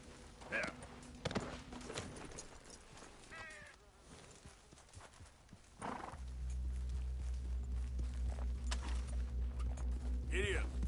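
Horse hooves clip-clop and a whinny rings out in a PS4 video game, with a steady rumble of in-game riding underneath and voices talking over it throughout.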